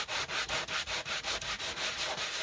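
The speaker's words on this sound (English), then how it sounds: "the more you sand, the more you're going to get that secondary color coming through" Sandpaper is rubbed by hand over a Saltwash-painted wood surface in quick, steady back-and-forth strokes, about four per second. The scratchy rasp is close and even, with no talking.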